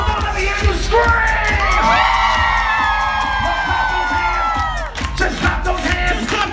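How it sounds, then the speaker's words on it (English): A studio audience at a New York talk show screams, whoops and cheers loudly and continuously, with high excited voices rising together before easing slightly and swelling again. "Let me hear you scream."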